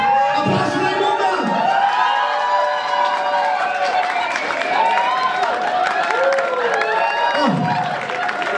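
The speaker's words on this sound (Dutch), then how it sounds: "Applaus voor Raymonda!" An audience at a drag performance claps and cheers, with whoops and lively shouting over continuous applause, loud and close throughout.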